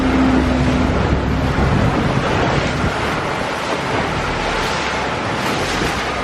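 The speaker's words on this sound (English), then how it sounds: "the sea is like swirling around" Constant rushing Pacific Ocean surf and wind noise roar without pause at Land's End, Cabo San Lucas, loud and close, with a low engine hum underneath.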